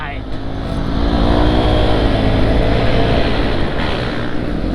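50th anniversary edition Vespa scooter on the road: a loud, close engine drone that rises as it accelerates and then holds steady, with wind noise running through it.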